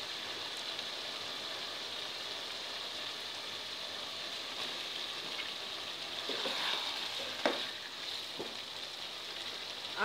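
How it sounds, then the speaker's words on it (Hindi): Potatoes and peas sauté with minced keema in a pan, giving a steady, even sizzle with a soft clatter of stirring near the end. No voices are heard. "अब फिर इसको 5 से 7 मिनट भूने और इसी दौरान भूनते हुए आप इसमें आलू और मटर शामिल कर लीजिए"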